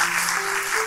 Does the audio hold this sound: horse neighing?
no